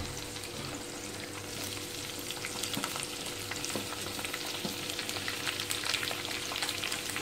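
Roughly cut onions fry in a pan for matar paneer, a steady, even sizzle with light scraping stirs throughout and no talking.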